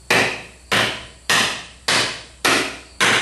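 Six firm, evenly spaced hammer blows on a block of wood drive a bearing into a New Holland 630 baler, each a sharp close knock with a short ring-out.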